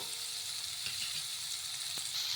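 Small cut tomato pieces cook in a pan over a high flame, giving a steady, even sizzle and hiss with a faint clink near the end.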